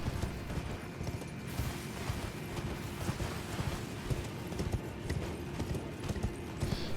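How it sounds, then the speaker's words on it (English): A horse galloping in the video game Elden Ring, with steady, close clip-clop hoofbeats running evenly over a constant background bed throughout. "hop on your horse and follow this path"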